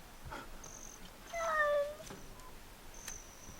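A cat meows a few times at moderate distance, with a longer drawn-out cry in the middle and quieter faint calls around it.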